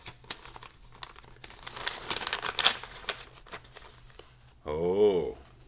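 Paper envelope torn open by hand at mail time, a loud rustling, crinkling tear in the middle, followed by a brief voice.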